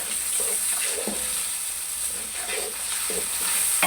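Masala frying in a pan for palak gosht, with crushed chili and salt just added, gives a steady close sizzle, and faint stirring scrapes come through at intervals.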